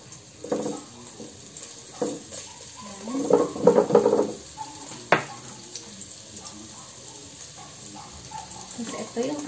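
Garlic, ginger and onion sautéing in a pan for mussel tinola, with stirring scrapes and a soft sizzle rising in bursts, one sharp clank of utensil on pan, while someone talks over the cooking.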